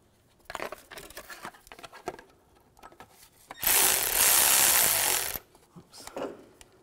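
A power tool tightening bolts on the rear wheel bearing hub of a 2004-2009 Audi A4 Quattro, heard as one loud, sustained whirring burst of about two seconds. Quieter clanks and handling noises from the work come before and after it, and nobody speaks.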